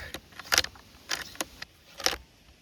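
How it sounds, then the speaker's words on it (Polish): A few sharp metallic clicks and clacks from a Steyr RMS rifle bolt locking, close up, spaced out with quiet gaps in between. "tu mamy ten charakterystyczny klik, pierwsze ryglowanie"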